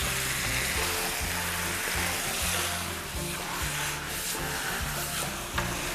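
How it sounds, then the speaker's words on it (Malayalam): Marinated chicken is stirred into an onion-tomato masala for Kerala-style pepper chicken, a dense continuous rubbing and scraping over a low sizzle, close and even throughout with no voices. "ചിക്കൻ ഇട്ടതിന് ശേഷം നമുക്കിത് നന്നായിട്ടൊന്ന് മിക്സ് ചെയ്ത് കൊടുക്കാം."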